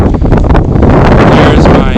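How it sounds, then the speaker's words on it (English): Strong wind buffets the microphone on open rural acreage, a steady loud roar with gusty rumble and no spoken words. "It is windy today."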